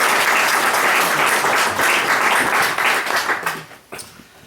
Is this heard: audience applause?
yes